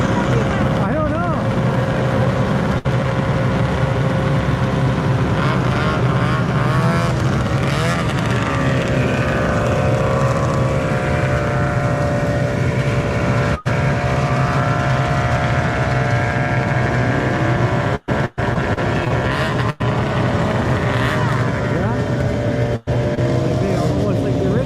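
Vintage snowmobiles ride past at a trail road crossing, a continuous loud engine drone with shifting pitch as the machines pass, with people talking over it.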